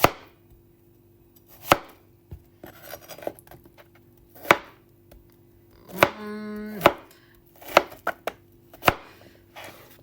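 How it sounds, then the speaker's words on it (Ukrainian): A knife slicing a zucchini into flat strips on a cutting board, sharp separate chops at an uneven pace with a brief scraping rub in the middle, close and clear in a quiet kitchen. "Кабачок я буду різати а, пластинками."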